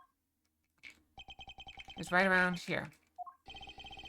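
A cell phone rings in the Ace Attorney video game, a rapid electronic ringtone pulsing in repeated bursts before and after a brief voice speaks over it.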